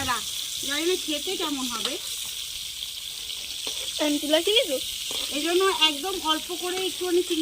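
Steady hot-oil sizzle from cauliflower frying in a pan, running under a voice talking through most of the clip.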